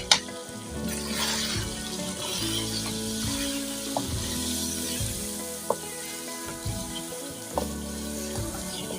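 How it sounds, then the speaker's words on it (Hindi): Spices sizzling as they are stirred into chicken korma in a pot, a continuous hot fry with scraping stirs and a few sharp clinks of the spoon against metal, no voices. "अब हम इसमें मसाले ऐड करते हैं और इन्हें अच्छी तरह से मिक्स कर देते हैं बीच में।"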